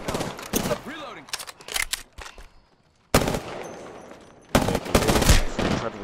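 Gunfire from a video game firefight, heard as loud, sharp bursts of automatic shots in several clusters, with voices talking between the volleys.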